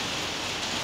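Steady rain falls outdoors beside a gas and charcoal grill, a dense even hiss of drops filling the short moment without pause or voices.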